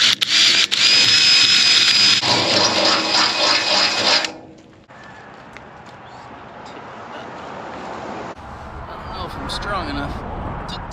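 Power drill cleaning out hinge holes in a wooden pig feeder lid, a loud whining buzz for about four seconds that cuts off, followed by quieter handling noises outdoors.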